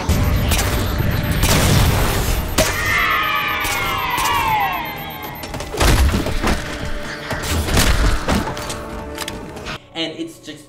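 Explosions in a Halo video game, several loud booms and crunchy blasts with debris and shattering over a busy battle mix, while a voice talks over it.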